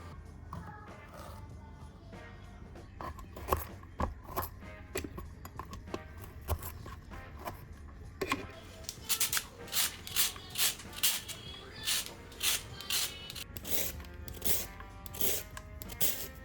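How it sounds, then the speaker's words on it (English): Carrots being grated on a coarse grater give a few scattered scrapes at first, then a quick, steady run of rasping strokes close to the microphone, with no talking. "peel the carrots and grate them using a coarse grater"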